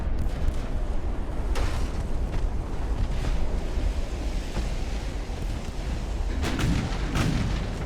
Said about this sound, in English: there's an ammo detonation on the bottom